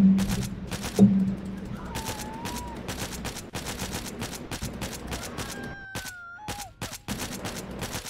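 Gunfire in Left 4 Dead 2, a long run of sharp repeated shots in quick bursts with short gaps, loud and close, over faint game ambience and a few wailing tones.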